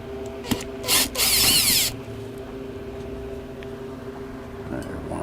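Power drill backing Phillips head screws out of a Lasko fan, a short whir followed by a longer buzzing run, close by, with a few faint clicks afterward.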